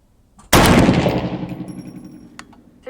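A single loud, close rifle shot from a .350 Legend cracks sharply and then rolls off in a long decaying echo, with a faint click just before it and another small tick near the end.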